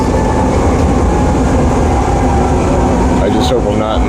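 An underground metro train runs smoothly, a loud, steady rumble and rattle of the carriage with constant hum throughout and no talking.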